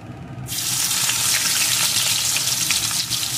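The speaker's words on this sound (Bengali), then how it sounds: "পেঁয়াজ কুচিটাকেও একটু ভেজে নেব" Chopped onion hits hot oil with a sudden loud sizzle that holds steady and close, crackling continuously, in a pan where a dried red chilli was first fried for a Bengali fish curry.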